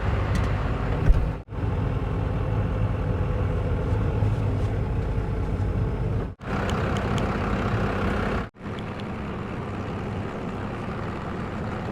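An old Dodge car, left sitting in a field for over twelve years, drives steadily with a loud continuous engine and road rumble. Two brief dropouts break the sound partway through.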